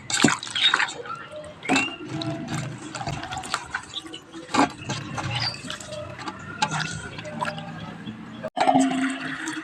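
Vegetables are rinsed two or three times in a kitchen, with running and splashing water, gurgles and drips, and clattering handling noises from nearby.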